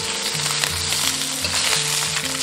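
Fish bones frying with ginger slices in a hot pan give a loud, continuous, close-up sizzle that stays even throughout, with a faint low tonal drone beneath.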